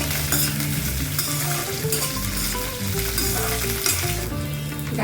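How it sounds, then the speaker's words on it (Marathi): Red chillies, sabudana and peanuts sautéing in a hot pan make a loud, dense, continuous sizzle with crackling and stirring scrapes running throughout. "लाल मिरच्या, साबुदाणा, शेंगदाणा टाकला, थोडं परतवून घ्यायचं."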